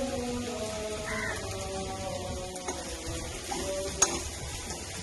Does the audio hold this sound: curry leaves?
yes